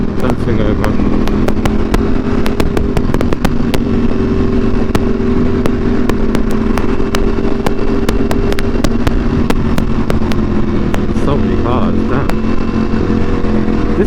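Loud, sustained engine roar and exhaust drone from a Ducati Panigale V4S motorcycle at a supercar meet, with sharp crackles and pops throughout and voices talking underneath.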